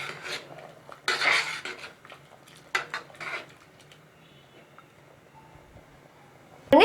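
A spoon scraping and clinking in a pot as salt is stirred through Chettinad egg biryani cooked in a pressure cooker, in uneven close bursts of metallic rubbing that fade to quiet near the end before a sharp knock.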